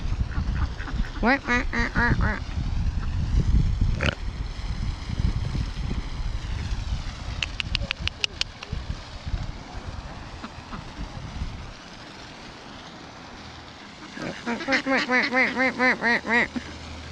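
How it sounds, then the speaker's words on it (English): Bursts of honking geese calls, loud and nearby, come in two clusters over steady background rumble and low engine-like drone at an RV park in Newport, North Carolina. "There's the geese."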